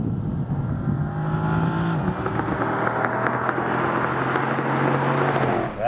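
A Dodge Charger SRT's 6.4-liter Hemi V8 pulls hard under acceleration, its deep engine note rising steadily with a gear change partway through, heard from inside the car over road and wind noise.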